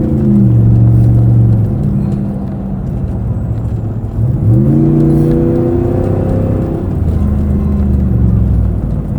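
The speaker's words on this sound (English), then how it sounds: "Engine sounds healthy." An AMW 5.7 Hemi-swapped Jeep Gladiator's engine hums loudly from inside the cabin, its pitch rising and falling through gear changes with a steady low rumble.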